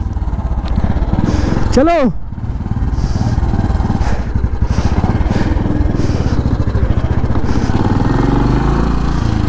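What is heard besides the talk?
old motorcycle engine running after being started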